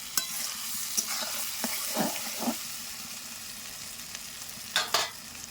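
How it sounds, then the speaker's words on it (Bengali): Chicken frying with spices in a pan for a Bengali home-style curry, a constant soft sizzle broken by several spoon scrapes and clinks against the pan, with a couple of sharper knocks near the end. "দেখো আমার সব কিছু ভালো করে কষানো হয়ে গেছে দেখো"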